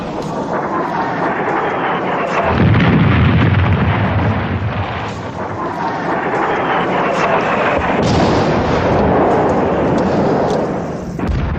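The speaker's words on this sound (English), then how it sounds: "American shuttle diplomacy was backed by American bombing." Archival footage of American and NATO bombing during the Bosnian war carries heavy, booming artillery fire and explosions that rumble continuously for over ten seconds, with repeated deep blasts swelling and overlapping, loud and without talking.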